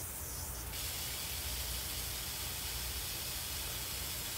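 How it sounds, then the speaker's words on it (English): Water spraying in a steady, loud hiss from a leaky garden hose fitting damaged by lying at a bad angle on the ground, continuous and close throughout. "I found that I've got a leaky hose"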